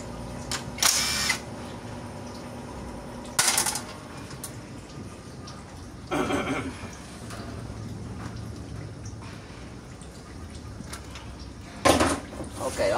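Power tool loosening the valve body bolts on a Chevrolet 4L65 automatic transmission being repaired for a second-gear fault, in several short bursts with quiet workshop gaps between them.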